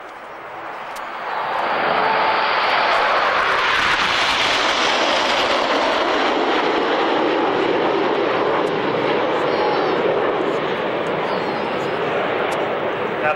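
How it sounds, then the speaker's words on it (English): A jet formation pulls out of a diamond loop and accelerates at an air show, a loud, sustained roaring rush that swells in after a quieter start and holds steady at a distance. "as they complete this diamond loop, they'll accelerate to our operating speed of around 400 miles an hour"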